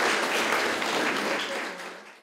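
Brief burst of dense applause in a regional council hall in Kharkiv as deputies see off a departing council head, a short wash of many hands clapping that fades within two seconds.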